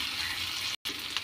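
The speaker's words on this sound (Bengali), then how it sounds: "পেঁয়াজটা লাল করে ভাজা প্রায় হয়ে এসেছে" Chopped onions with a pinch of salt sizzle steadily in oil in a pan, browning for a salted fish dish, a close, soft continuous frying hiss with a brief gap.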